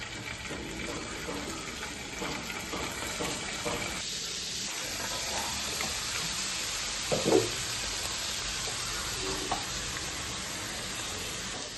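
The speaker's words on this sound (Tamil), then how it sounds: "இப்போ நம்ம மீன் வறுத்துக்கலாம்" Steady mustard oil sizzle and crackle from fish frying, continuous and fairly close, with a soft clatter partway through.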